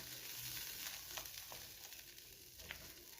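Tomato chutney cooking in oil, stirred in a pan, giving a soft continuous sizzle with occasional scraping clicks of the spoon, fairly faint and close.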